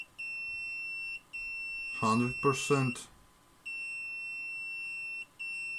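A multimeter's continuity beeper sounds on the shorted component legs of an Epever Tracer 10420AN charge controller under repair: a steady high-pitched tone that repeats with short breaks, cut off while a voice speaks briefly in between.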